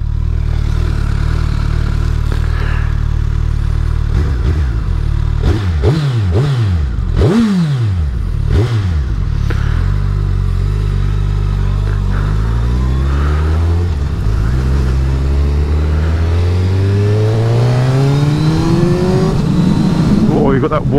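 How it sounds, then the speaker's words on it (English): A 2021 Suzuki Hayabusa motorcycle being ridden on the road: a loud, continuous engine drone with rising and falling whining pitch through gear changes and corners, climbing steadily near the end, heard close with wind rush. "Oh, you've got that whine. It's all like a turbine."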